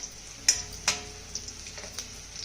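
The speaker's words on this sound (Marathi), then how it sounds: "आता हा लसूण ना आपल्याला हलक्या सोनेरी रंगावरती चांगला परतून घ्यायचा आहे" Chopped garlic and curry leaves fry in a pan with a low, steady sizzle, broken by a few sharp clicks of a spoon stirring and scraping, two louder ones near the start and fainter taps after.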